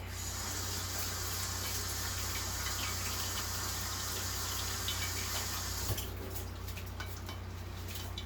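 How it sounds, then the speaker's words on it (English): Kitchen tap running steadily as hands are washed after breading pork chops, a continuous close gush of water into the sink that shifts slightly near the end. "I'm gonna wash my hands real quick."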